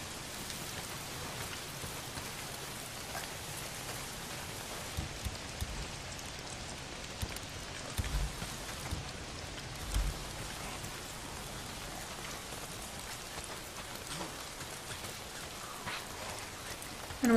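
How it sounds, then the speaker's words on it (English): Steady rain pours down in the open-world zombie game Days Gone, a dense, even wash of drops hitting surfaces with a few slightly louder patters, heard alone with no talk. "If it's not the freaks, it's the goddamn rain. Why is it always raining?"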